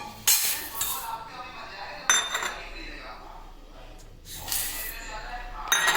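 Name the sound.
washing rice and toor dal in a vessel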